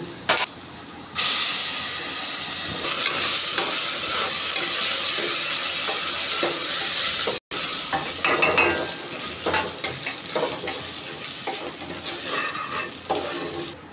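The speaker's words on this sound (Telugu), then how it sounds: "నేను దీంట్లో అల్లం వెల్లుల్లి పేస్ట్ వేసుకుంటాను" Ginger garlic paste sizzles in a pan with softened golden onions, a loud steady frying hiss broken by stirring scrapes, the sizzle fading slightly toward the end, no voices.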